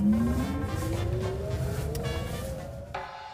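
An oldtimer VW Beetle converted to electric drive accelerates with a rising whine that climbs steadily in pitch over a faint road rumble, then cuts off sharply near the end.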